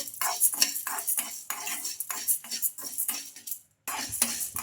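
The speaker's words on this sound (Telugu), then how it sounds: "ఇంకా వీటిని కూడా ఇలా కలుపుతూ ఒక రెండు నిమిషాలు అయితే ఫ్రై చేసుకోవాలి" Sago pearls are stirred and fried in a metal kadai, with a metal spoon scraping and clinking in quick repeated strokes close by. The stirring stops for a brief gap, then resumes. Hardly any sizzle comes through.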